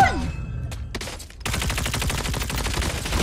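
Thermite-round gunfire in Call of Duty Mobile: a couple of isolated shots, a brief lull, then a loud, sustained rapid-fire burst with dense, evenly spaced reports.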